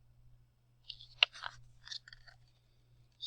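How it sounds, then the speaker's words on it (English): Crunching footsteps through dry leaves at night, approaching a farmhouse: a short series of faint, crisp crackles and crunches, with a quiet stretch before and after. "He hears the crunching of leafy footsteps heading towards the house."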